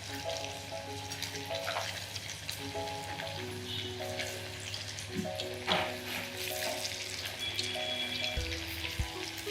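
Leftover rice pakodas sizzle steadily in hot oil, a dense crackling hiss with scattered pops running throughout at moderate, close range.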